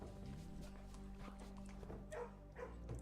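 A dog in the video game Blue Prince gives a few soft barks and yips after being petted, quiet and close over a faint musical background.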